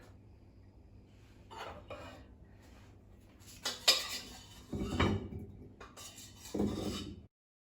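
Dishing up a Christmas vegetarian meal in a home kitchen: dishes, pots and cutlery clink and scrape in scattered bursts, starting faint and growing louder with a few heavier clatters near the end.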